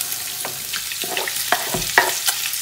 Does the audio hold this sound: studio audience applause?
no